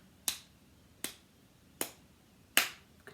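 Hand tapping, one hand striking the other or the legs, four crisp, separate taps in an even slow rhythm, close and fairly quiet with silence between them.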